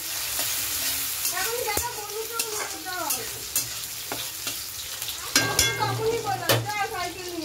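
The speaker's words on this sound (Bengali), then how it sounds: "পেঁয়াজটা ভাজা ভাজা হয়ে গেছে," Onions fry with a steady sizzle in a pan at home while a utensil stirs and scrapes through them in repeated strokes, a denser burst of scraping near the end, no talk over it.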